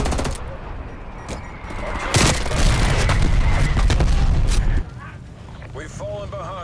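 Dense, sustained video game gunfire crackles in rapid bursts, swelling louder midway before dropping off sharply, with a busy, layered mix of shots and booms throughout.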